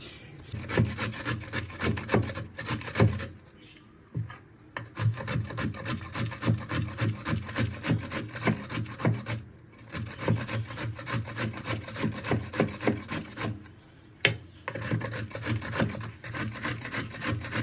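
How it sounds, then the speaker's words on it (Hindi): Carrots are rubbed against a grater for carrot halwa in a steady back-and-forth rasping rhythm, close and fairly loud, with a few short pauses between runs of strokes. "ये सारी गाजरें काट ली हैं।"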